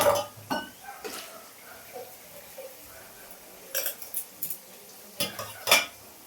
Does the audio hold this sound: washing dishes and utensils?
yes